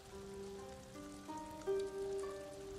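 Steady rain patters down in the video game Ghost of Tsushima, a constant wash of noise heard beneath sustained musical tones, with no talking.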